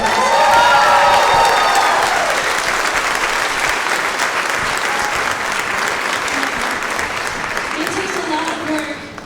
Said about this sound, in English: Can we give them a round of applause?